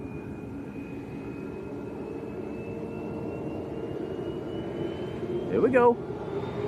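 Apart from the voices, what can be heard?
TUI passenger jet at Lanzarote Arrecife airport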